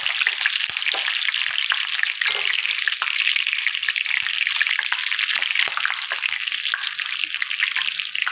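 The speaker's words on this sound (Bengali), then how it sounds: "এবার ওর মধ্যে জিরেটা ফোড়ন দিয়ে দিয়েছি।" Cumin seeds with bay leaf and green chilies sizzling in hot oil, a continuous crackling hiss with scattered pops, close and steady throughout, with no voice.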